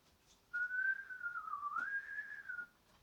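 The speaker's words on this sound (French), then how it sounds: "je vais lancer des sifflements qui vont faire duo avec le piano" A single clear, sustained whistled melody, played as a duet with a piano, wavers gently up and down, then stops; no other sounds are prominent.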